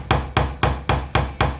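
A hammer strikes wood again and again while a pegboard frame is built, six sharp, loud, evenly spaced blows with short ringing decay and no talk.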